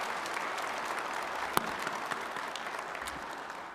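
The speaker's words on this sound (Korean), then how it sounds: "격려 박수 부탁드립니다" Sustained audience applause of encouragement at a formal Korean government briefing on advanced industry, dense clapping from a large crowd holding steady throughout, with a single sharp louder clap standing out midway.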